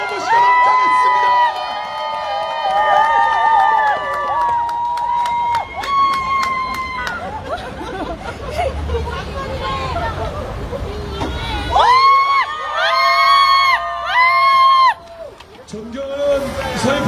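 A crowd at an outdoor campaign rally in Seogwipo, Jeju, cheers and applauds loudly and continuously, with bright sustained tones and music-like sounds ringing over the crowd.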